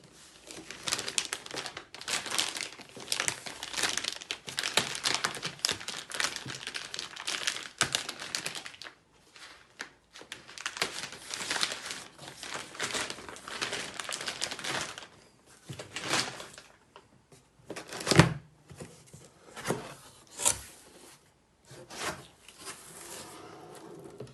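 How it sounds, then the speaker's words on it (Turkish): Unboxing a Korkmaz A158 Vita pressure cooker set of 7 and 4 litres, with close crinkling and rustling packaging, cardboard and plastic handling in bursts, pauses, then a few sharp thuds and knocks near the end. "paketimi açıyorum"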